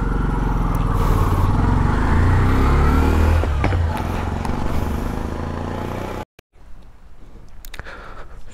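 A motorcycle climbs the road up to Nilachal in Bandarban. Its engine drones loud and close with rising revs, cuts out abruptly, then returns more faintly with wind noise.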